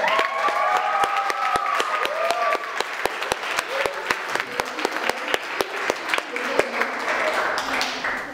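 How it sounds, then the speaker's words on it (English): Loud, sustained applause from a crowd, with dense clapping and a few cheers and children's shouts mixed in. "Can we have one big round of applause for Sophie for a second?"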